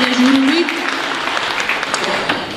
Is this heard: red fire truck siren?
no